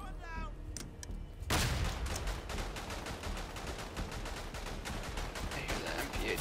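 Rapid automatic fire from an MP18 or machine gun in the WWI game Verdun rattles in a dense, continuous stream of shots after a brief quieter moment, moderately loud amid battlefield noise.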